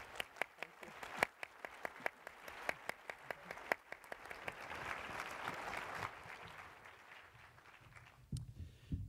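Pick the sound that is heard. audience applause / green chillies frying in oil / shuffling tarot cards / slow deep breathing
audience applause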